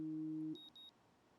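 A phone alarm sounding: a steady two-tone electronic buzz that cuts off after half a second, followed by a few faint high beeps.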